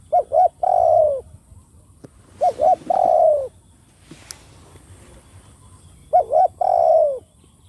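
A dove coos three times in the same phrase, each a couple of short hoots then a longer rolling coo, clear and close amid faint background noise.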